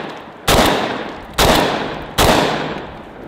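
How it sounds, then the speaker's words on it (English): A Benelli Versa Max shotgun fires three loud, evenly spaced shots at steel targets outdoors, each blast followed by a fading echo. "let's start with the Versa Max and shoot our steel a little bit"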